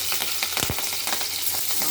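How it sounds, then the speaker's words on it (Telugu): Green chillies and tempering seeds sizzle in hot oil in a pot, a dense continuous frying hiss with a short clatter of stirring, close and fairly loud with no talk. "సో గిన్నెలో ఆయిల్ వేసుకొని వీటెక్కిన తర్వాత తాలింపు చేసుకుందాము"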